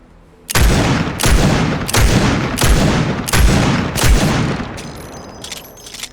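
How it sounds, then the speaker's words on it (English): Scoped revolver firing in a video game, six loud, booming shots at a steady, deliberate pace, each with a long echoing tail, alone without talk. "Scoped revolver, it has the incorrect scope, and also the camera zooms out whenever you're firing it"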